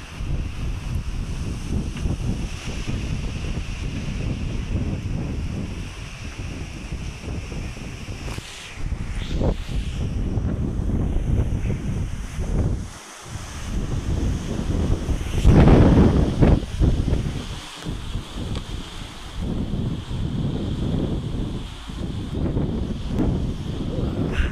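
A windstorm with wind and rain, gusty roaring buffets and a hiss of rain, loud and continuous with swelling surges and brief lulls, no one speaking.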